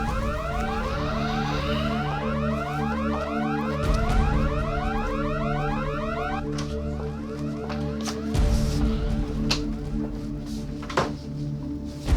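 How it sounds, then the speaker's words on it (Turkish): Perimeter alarms blare at a secured site, a loud repeating rising electronic whoop cycling steadily, with a couple of heavy thuds or door bangs beneath it and no speech. "Çevre alarmları çalışıyor."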